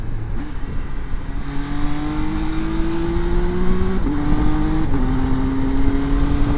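A 2024 MV Agusta Enduro Veloce motorcycle engine drones and revs steadily while riding, its pitch climbing through gear changes, loud and close with a brief dip between shifts.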